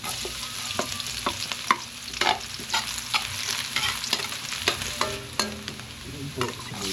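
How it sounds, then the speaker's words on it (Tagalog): Ginger sizzling in hot cooking oil in a pan while it fries to golden brown, a steady crackling hiss with repeated sharp scrapes and stirs of a utensil, close and fairly loud, with no talking. "Lagay na po natin yung luya. Hintayin po natin mag-golden brown."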